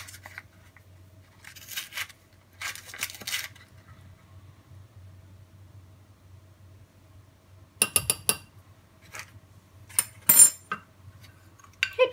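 Spoon clinking and scraping in a bowl while stirring a baking soda and tomato face mask, a few scattered sharp clinks in separate bursts over quiet background, close and fairly soft.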